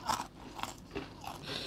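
Crispy fried dried fish is bitten and crunched close to the microphone, with several quick, dry crunches spaced through a short moment of chewing.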